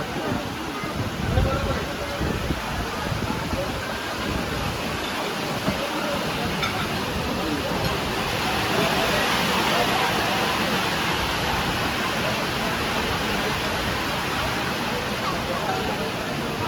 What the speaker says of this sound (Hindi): और बहुत तेज बारिश हो रही है।